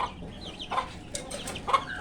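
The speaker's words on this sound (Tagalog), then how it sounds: "Ayan na po yung ating mga manok." Chickens cluck in short, scattered bursts over a steady outdoor background of wind and rustle, with a few sharper calls standing out near the end.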